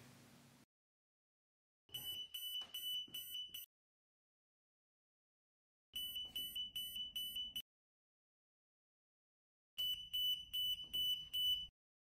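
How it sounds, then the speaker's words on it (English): A Ludlum 52-1 portal monitor alarm sounds three times, each a loud, steady electronic tone with a rapid pulsing warble, lasting about two seconds, separated by silence. "Keep the source in place until the alarm sounds."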